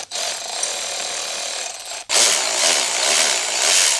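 An electric stubby impact wrench runs in two sustained bursts, loud and close, with a brief gap between them and a harsher, brighter second run.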